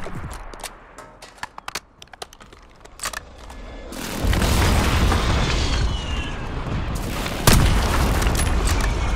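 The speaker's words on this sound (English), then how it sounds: "Hostile airstrike incoming." Airstrike explosions in the Call of Duty video game: a few small pops give way to a heavy, sustained rumbling barrage of booms, with one sharper blast standing out near the end, loud and close.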